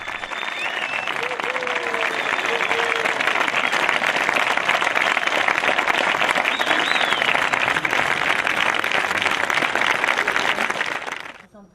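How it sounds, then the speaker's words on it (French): A festival audience applauds at the close of a clown show, sustained loud clapping from a crowd that fills the space, with a few voices calling out, then fades at the end. "sous les applaudissements."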